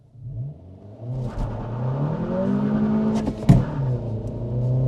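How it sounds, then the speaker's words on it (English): A manual Acura Integra A-Spec launches in first gear with traction control off, its engine revving up strongly and steadily close by, with a sharp burst of noise midway as the wheels spin. "Time for a launch. Manual first gear, sport mode, traction control off. It's gonna be wheel spin city"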